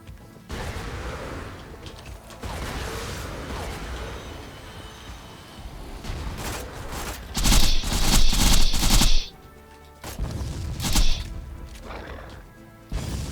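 Constant gunfire and impacts fill a chaotic firefight in Borderlands 2 at Digistruct Peak, and a grenade goes off in a loud, broad burst of blast noise lasting about two seconds before the shooting resumes.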